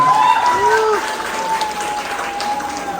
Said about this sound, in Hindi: नीरज सर और विक्रम सर के लिए एक बार ताली बजाएं